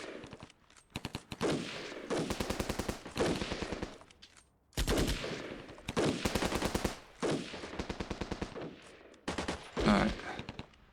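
Bursts of automatic gunfire from an ACO unit in the wargame Armored Brigade II, Scandinavia setting, firing in repeated rapid volleys over about eleven seconds with brief pauses between bursts, fairly loud with no talk.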